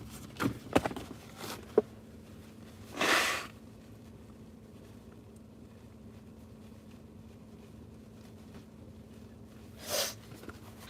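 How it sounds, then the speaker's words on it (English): Two separate noisy nose blows, one early and one near the end, close to the listener, with a few small clicks and quiet room sounds between. "I gotta blow my nose now"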